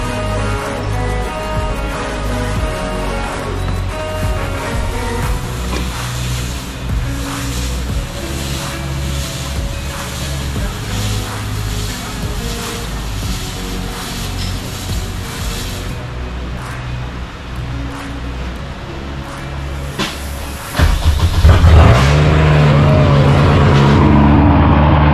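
A K-series swapped Mini Cooper fires up and revs loudly near the end, its harsh exhaust bursting in over steady workshop engine and machinery noise.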